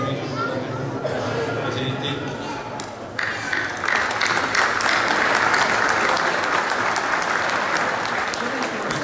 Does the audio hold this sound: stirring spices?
no